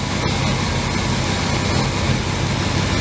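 The V8 engine of a 1979 Chevy Square Body idles at about 600-700 RPM, a steady, even rumble close by with a constant level throughout.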